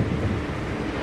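Stormy wind in Far Cry Primal, a steady loud roaring rush of wind with a broad surf-like wash and no pauses.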